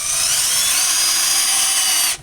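A power drill drives a screw into wood with a loud, close, steady high whine that runs continuously and then cuts off abruptly at the end, with no speech.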